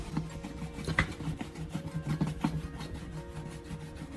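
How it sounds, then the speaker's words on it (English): Charcoal rubbed by hand in small circles with light pressure on the plastic of a car headlight, a close, dry scratchy rasping in quick uneven strokes. "rub it directly onto the surface of the headlight. Move your hand in small circles and apply light pressure."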